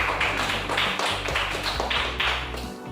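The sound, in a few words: applause for a student in class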